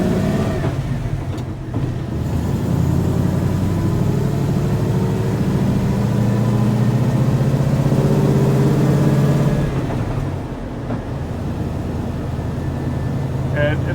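A V8 car engine runs rich while driving, a steady close low rumble with rising and falling revs that eases off toward the end; a voice speaks over it.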